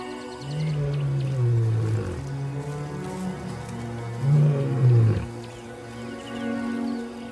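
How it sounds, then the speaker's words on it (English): A male lion roars on open grassland in two deep, drawn-out bouts, each a low moaning call that swells and breaks off with grunts, carrying with a reverberant, distant quality. "contact roars reverberate across the grassland, calling for his brother"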